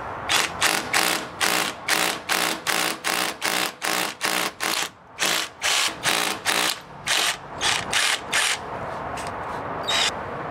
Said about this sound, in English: And once I've got it started, I can switch the hammer action on.